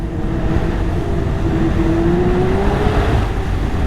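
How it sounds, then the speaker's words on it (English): A 2024 Ski-Doo XRS snowmobile engine revs hard at full throttle on a trail. The roar is loud and continuous, and its pitch climbs steadily under heavy rushing noise. "it lifts the skis every time I slam the throttle"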